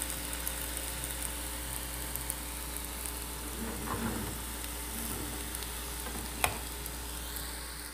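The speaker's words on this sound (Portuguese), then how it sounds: "Porque o azeite vai fritando." Bread dough fries in olive oil in a pan with a steady, close sizzle and crackle, and a brief sharp knock sounds near the end.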